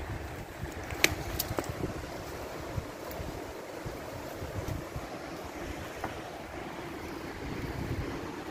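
Broad rushing water noise from a river flowing beneath an old interurban bridge, steady and continuous with a low rumble and occasional faint clicks, heard without any voices.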